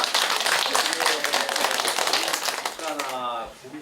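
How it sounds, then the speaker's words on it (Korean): A group of villagers at a rural village gathering clap together in a brisk, dense round of applause that tapers off, with voices talking over it. "다 같이 박수 한번 쳐야 돼요."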